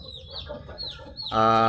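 Chickens cluck and chirp in short repeated calls, followed by a loud, sustained squawk close by from a chicken with a crop problem.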